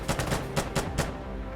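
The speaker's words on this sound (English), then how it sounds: "I got a grease gun." Grease gun fired in the shooter game Insurgency: Sandstorm, short bursts of several loud close automatic shots with brief gaps between them, no talking.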